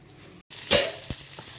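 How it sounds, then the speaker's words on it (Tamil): Chopped beans drop into hot oil for veg noodles and burst into a loud sizzle, with crackling and a few stirring knocks as the frying continues. "இப்போ எண்ணெய் சூடாயிடுச்சு அதில் கட் பண்ணி வச்சுருக்க பீன்ஸை சேர்த்துக்கலாம்"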